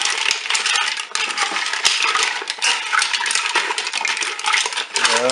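Mussels are stirred in a Cookeo pot, producing a dense, close clatter of shells knocking and scraping against each other and the metal bowl, continuous and loud with no speech.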